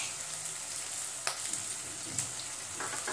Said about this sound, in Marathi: सर्व मसाले आपण परतून घेऊ।